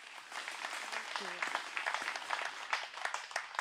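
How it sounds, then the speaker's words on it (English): A church congregation applauds in a steady, fairly distant wash of clapping that continues throughout, with faint voices mixed underneath. "Let's clap for Jesus Christ."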